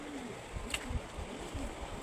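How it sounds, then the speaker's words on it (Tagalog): A pet bird, a pigeon or dove, gives soft, faint cooing notes in a brief run against low room background, with no talk over it. "Narinig niyo ba sino yung naguhuni-huni?"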